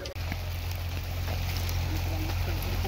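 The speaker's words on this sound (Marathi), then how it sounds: "पाऊस पडायला लागलेला आहे" Rain falling outdoors makes a steady, dense hiss of droplets throughout, alongside a continuous low hum and a loud, close wash of noise.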